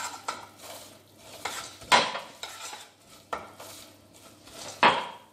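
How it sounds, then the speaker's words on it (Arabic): Almonds being stirred into caramel in a pot, with repeated scraping and clinking strokes of a utensil against the pot at an irregular rhythm, close and moderately quiet. "ونحركو حتى يتلبس لينا بالكراميل كله"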